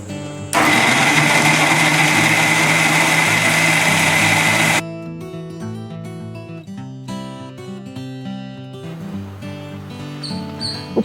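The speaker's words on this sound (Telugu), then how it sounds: "వేపేసుకుని మనం మిక్సీ పట్టినప్పుడు ఇవన్నీ కలిపి ఒకేసారి మిక్సీ పట్టేసుకోవచ్చు" A mixer grinder grinds roasted almonds and spices for mutton haleem: a loud, steady whirring roar runs for about four seconds, then cuts off and gives way to background music.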